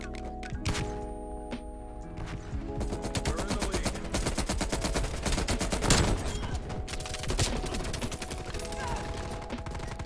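An M60 machine gun fires in Black Ops Cold War, with long, loud, rapid automatic bursts running almost continuously amid other game gunfire and effects.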